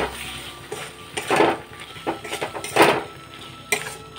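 Metal utensil scraping and clinking against a pan while stirring a doi potol curry after pepper powder goes in, with intermittent close stirring strokes and clinks at an irregular pace.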